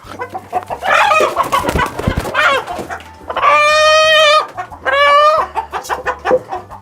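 Chickens clucking close by on a farm, with a run of rapid clucks followed by two longer, loud, drawn-out calls.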